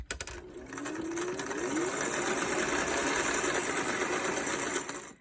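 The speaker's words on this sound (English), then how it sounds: "I sewed these two edges, so it looks pretty seamless" Electric sewing machine stitching the edges of a fabric face mask, running in one steady, fast-whirring burst of several seconds, close and fairly quiet.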